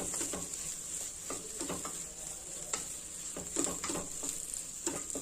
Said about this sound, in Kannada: ಚೆನ್ನಾಗಿ ಮಿಕ್ಸ್ ಮಾಡಿ